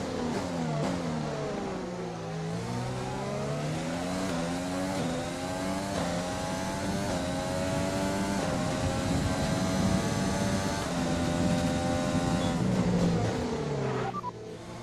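Screaming F1 race car engine from the F1 2020 game, sustained loud high-revving note with rising and falling pitch sweeps through gear changes, continuous for the whole stretch, no talk.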